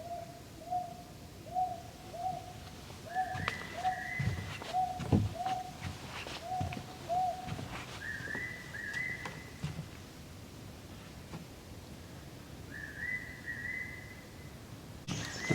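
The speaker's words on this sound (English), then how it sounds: "I'm looking forward to walk around and listen to the bird sounds again." Forest birds at Bongseosan in Korea give repeated clear whistled notes, a steady series of short calls stepping up in pitch in phrases, moderately near, with soft footsteps and rustling underneath.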